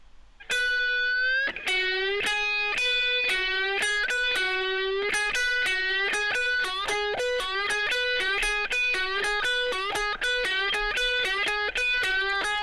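A clean, unaccompanied guitar lick from a song, played as a steady run of picked notes with pitch bends. The phrasing is rhythmic and slightly syncopated, close and clear, with no voice over it.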